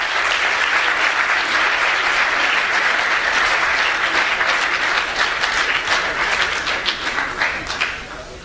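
Sustained, dense applause from a concert audience at a live Afghan music show in Sweden, loud and continuous for several seconds before beginning to thin and fade toward the end, with no voices over it.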